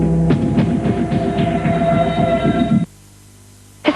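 A freight train carrying trucks on its wagons rumbles past with a dense, rhythmic clatter and a low throb, then cuts off abruptly into near silence.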